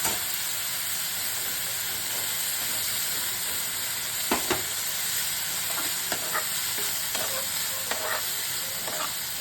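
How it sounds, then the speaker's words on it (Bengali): Prawns frying in a pan with crisp lentil dumplings (bori), a steady close sizzle and hiss throughout with a few brief clinks of a utensil stirring, no voices. "এটা মুখরোচক দিয়ে চিংড়ি মাছ ভাজা হচ্ছে"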